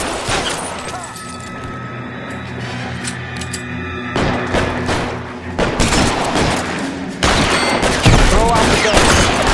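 Bursts of gunfire crack through a large warehouse during a shootout in L.A. Noire, with dense volleys and sharp individual shots, loud and close, growing heavier toward the end.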